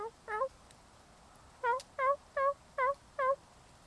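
A human voice mimics a wild turkey's plain yelp: one short call, a pause, then a close, clear series of five evenly spaced, rising-falling yelps with nothing else audible.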